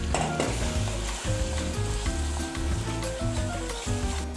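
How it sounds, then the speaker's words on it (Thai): Pounded curry paste loosened with coconut cream stir-fried in a pan for Thai lon kung, a steady close sizzle with stirring, alongside tonal musical sounds, no talking. "เราจะนำเครื่องที่เรา โขกเมื่อสักครู่ที่ละลายกับกะทิแล้วนะครับ ใส่ลงไปผัดครับ"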